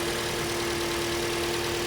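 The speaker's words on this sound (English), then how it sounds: "And having a listen to the engine" A 2017 Toyota Corolla Ascent idles with its engine bay open, a steady, even hum with a low tone and no knocks or bangs, heard close up on its own.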